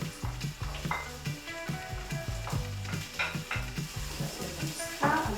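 Red onions frying in a pan for a chicken dish, with a steady sizzle under busy stirring and clattering, set against a loud, continuous music bed that partly masks the cooking.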